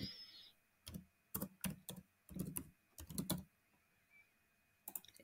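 Bursts of typing on a computer keyboard, quick clusters of crisp key clicks separated by short pauses, close and fairly quiet, with no voices.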